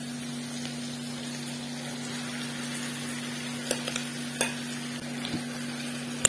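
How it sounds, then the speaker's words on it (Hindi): Marinated chicken frying in biryani masala for chicken dum biryani gives a steady low sizzle with a constant hum, and a few sharp stirring clinks stand out near the end; no one speaks. "अब जो मैंने मैरिनेट किया हुआ चिकन रखा था वो मैं इसके अंदर डाल दूंगी।"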